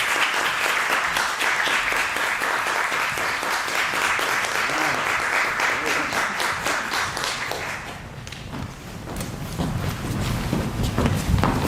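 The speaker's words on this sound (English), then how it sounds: "Please give them a big round of applause" Theatre audience applauding a stage reading of Yella Jack, dense continuous clapping with scattered sharp individual claps that dips briefly near the end and then swells back.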